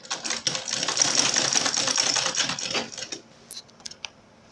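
A sewing machine stitches the panels of a laptop backpack together in a fast, steady mechanical whir that runs loud and close for about three seconds, then stops, leaving a few faint clicks and handling taps.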